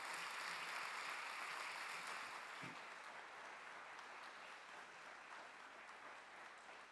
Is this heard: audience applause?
yes